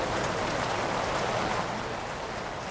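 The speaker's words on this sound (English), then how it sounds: "Welcome back to very wet, rainy Orlando, Florida" Heavy rain falling in Orlando, Florida, a dense, steady patter of drops on surfaces filling the scene, close and even with no break.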